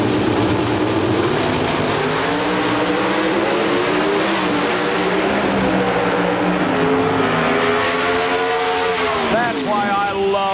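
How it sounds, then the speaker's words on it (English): Two drag racing cars at the 1994 NHRA Gatornationals roar loud and close, their engines revving higher and accelerating hard down the strip in one continuous, sweeping blast with rising pitch near the end. "The RPMs begin to mount on both cars."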